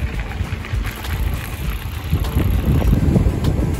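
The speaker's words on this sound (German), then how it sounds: "Hier bläst immer ein bisschen Wind." Wind gusting at the outermost tip of an island near La Rochelle, a loud rough buffeting roar on the microphone that swells and grows stronger toward the end, with no voices.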